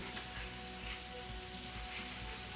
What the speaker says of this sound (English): You want to hear that little sizzle there.